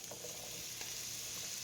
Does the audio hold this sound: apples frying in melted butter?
yes